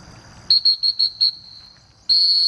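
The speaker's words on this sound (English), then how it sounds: "That's the second time I've ever really blown a whistle in the water for him." A shrill dog training whistle sounds in five quick short blasts, then a pause, followed by one long sustained blast, loud and close, during water retriever training.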